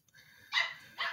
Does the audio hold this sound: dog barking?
yes